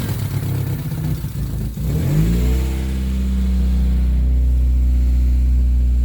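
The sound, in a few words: car engine running and revving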